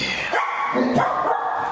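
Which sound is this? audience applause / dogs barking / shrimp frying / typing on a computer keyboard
dogs barking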